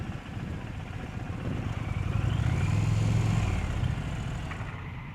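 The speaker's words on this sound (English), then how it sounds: "This is an extremely comfortable motorcycle." A 2023 Indian Pursuit motorcycle rides past with a steady engine drone that swells to a louder, closer peak midway and then eases off, continuous throughout.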